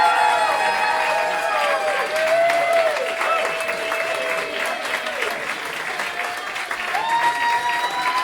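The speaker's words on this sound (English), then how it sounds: "I'm going to get the longest applause anyone's ever gotten at laughter party." An audience applauds in a steady, dense patter of clapping that stays loud for several seconds, with a faint murmur of crowd underneath.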